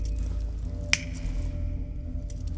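A single sharp finger snap, close and distinct, cuts through a steady low background hum in a tense film scene.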